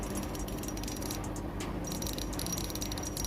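An Anyfish Core X 800 spinning reel being cranked, giving a faint, steady soft rattling whir with light clicks throughout, quiet and close with no talking.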